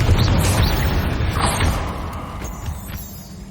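A fiery Confringo spell explosion in the Hogwarts Legacy video game, fought against spiders: a loud, dense blast with heavy low rumble and crackling, fading steadily over a few seconds with small pops toward the end, no voices.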